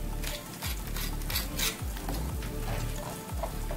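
A spice paste of ginger powder, chilli paste and garlic paste being whisked vigorously in a bowl for Bengali fish kalia, a steady scraping, stirring rhythm that continues without pause and with no talking.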